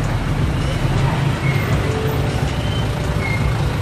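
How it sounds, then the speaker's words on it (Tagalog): Dense road traffic in a jam on Boracay Island, a steady close rumble of idling and creeping engines with faint beeps and horn-like tones scattered over the continuous wash of noise. "Ano kasi, 3:55, so ma-traffic jam na talaga."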